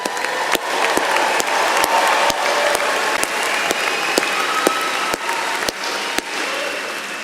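A large graduation-ceremony crowd for the class of 2025 gives sustained, dense applause throughout, with sharp individual claps popping out of the steady roar of many hands.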